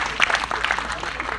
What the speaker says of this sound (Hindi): एक बार अंग्रेजों के लिए जरा जोरदार ताली बजाओ।